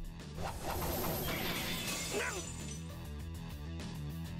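Twin swords shatter in the visual novel Fate/Stay Night, a bright metallic crash and splintering burst that rings briefly and then settles into a low rumbling backdrop, with faint voices beneath.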